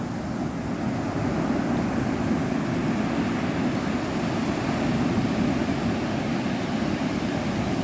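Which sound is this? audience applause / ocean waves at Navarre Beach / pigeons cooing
ocean waves at Navarre Beach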